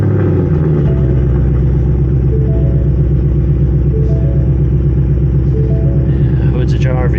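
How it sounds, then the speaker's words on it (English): A 2022 Ford Mustang GT V8 idling with the hood open after starting, a loud steady low rumble with a brief start-up surge at the beginning and a chime near the end. "can I start the engine with the hood open?"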